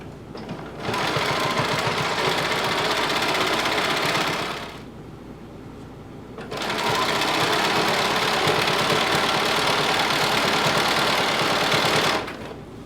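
A sewing machine runs steadily while stitching a hem on a DIY top with leather accents. It makes a fast, even mechanical whir heard close and loud in two long runs, with a short pause between them.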